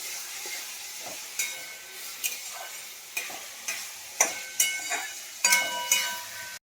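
Garlic and ginger stirred in a frying pan for chicken, a steady sizzle broken by repeated sharp scrapes of the spoon against the pan, close and without talk.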